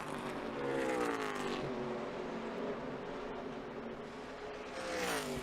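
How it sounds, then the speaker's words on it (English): A NASCAR K&N Pro Series East race car at Dover International Speedway runs down the backstretch, its engine a steady loud roar that swells slightly at the start and end, heard alone without talk. "Race leader working down the backstretch, down into the shadows."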